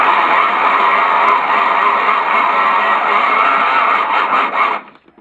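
A small hand-spun generator rigged to light a bulb, making a steady loud whirring, rubbing drone with a scraping edge that runs unbroken for several seconds and then stops abruptly, with no talking over it.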